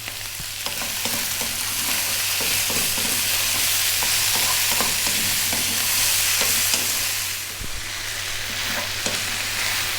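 Chicken stock made from Maggi or Knorr stock cubes is stirred in a hot pot for chicken noodle soup, giving a steady sizzling hiss with soft scraping stirs throughout, close and continuous.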